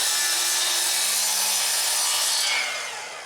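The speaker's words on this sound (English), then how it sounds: "I'm going to cut that out on the miter saw." A loud, close miter saw cuts steadily through maple, its harsh whirring rasp holding for a few seconds before it trails off as the cut finishes.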